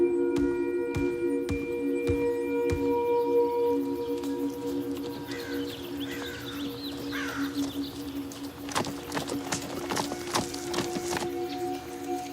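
Horse hooves clip-clop in a steady series of sharp knocks, first alone and then in a denser cluster, under a sustained tonal hum and faint bird-like calls.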